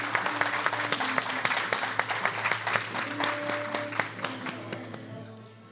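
A retail summit audience applauds as an award is handed over on stage, a dense stretch of clapping with sharp individual claps standing out before it gradually fades away.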